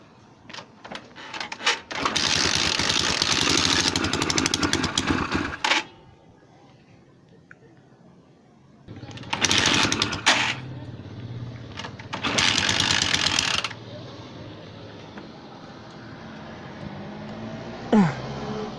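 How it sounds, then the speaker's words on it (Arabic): A repaired motorcycle engine running in loud, steady mechanical bursts that start and stop several times, with quieter idling in between. "هنبدأ دلوقتي طبعا ندور الموتور مع بعض"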